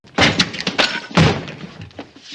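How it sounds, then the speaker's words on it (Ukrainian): A loud wooden door is smashed in with heavy blows, bursting from its frame in a dramatized horror scene: several sharp, close thuds and cracking impacts in quick succession, with splintering debris trailing off. "Двері із тріском вилетіли із одвірка і, розлетівшись на друзки, впали всередину кімнати"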